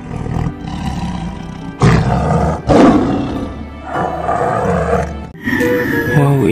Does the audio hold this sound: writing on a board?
no